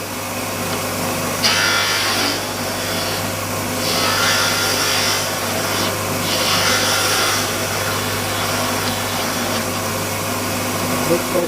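A wood lathe cuts a tenon on a napkin holder turned between centers. A steady motor hum runs throughout, and several scraping tool cuts swell and fade over it.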